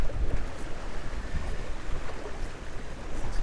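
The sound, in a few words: strong wind on water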